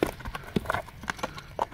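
Horse stepping outdoors, a quick irregular series of close hoof clip-clops on hard ground, fairly faint, with no voices over it.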